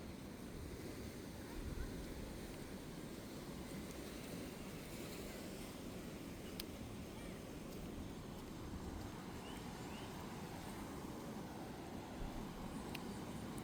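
Surf washing steadily onto Playa Ventanas, a Pacific beach in Costa Rica near Uvita, heard as a continuous broadband roar of waves with some wind, no voices.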